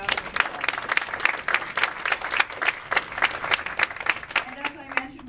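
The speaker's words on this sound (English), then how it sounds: "give all of our candidates a round of applause." Audience at a mayoral candidate forum applauding, a steady burst of many hands clapping that thins out toward the end.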